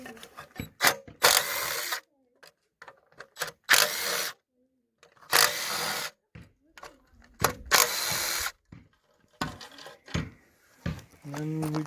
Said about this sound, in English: We're just going to go ahead and take these 4 bolts out. I use the 10mm socket.